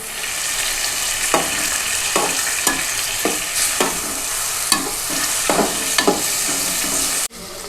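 Chicken sizzles steadily in a pan for a restaurant-style chicken spaghetti while a utensil stirs it in scattered scrapes and clinks, close and loud, ending with an abrupt cut.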